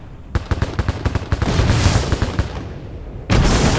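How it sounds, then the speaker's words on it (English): Rapid automatic gunfire in the mobile shooter Drone 5: Elite Zombie Shooter cracks out as a fast, loud burst of repeated shots that blends into a sustained roar, then a second heavy blast starts near the end. "Shooting."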